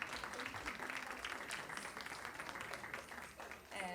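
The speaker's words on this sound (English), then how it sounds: "Can we please have a round of applause for that fabulous performance?" An audience at an Indian Independence Day and Gandhi birthday event applauds after a performance, giving a soft, far, continuous patter of many hands.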